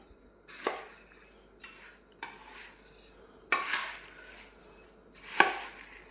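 Puffed rice is mixed with spices and sev, giving five sharp scraping clatters spaced a second or so apart, with quiet rustling between them.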